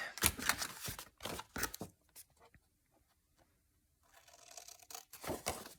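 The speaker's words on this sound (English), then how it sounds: "So this time I'm trying it out with the scissors." Crisp bursts of scissors snipping through paper, several quick cuts at the start, a quieter stretch in the middle, then more cutting close by.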